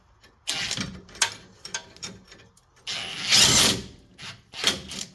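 Ratcheting wrench work on a bolt at a truck's brake backing plate: several bursts of clicking and metallic rasping in uneven spurts, close and fairly loud, with brief pauses between turns and no talking.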